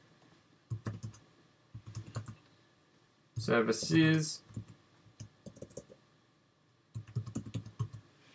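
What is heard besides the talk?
typing on a computer keyboard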